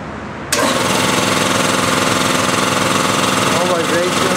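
GKI WB30 3 HP two-cylinder cast iron air compressor kicks on abruptly after a short quiet moment, then runs loud and steady with a fast, even mechanical thrum close by.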